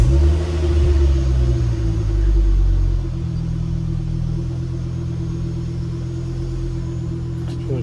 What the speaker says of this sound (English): Just give it a start.